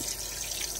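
Tap water runs steadily from a kitchen faucet into the sink during dishwashing, a close, even broadband hiss with no voices.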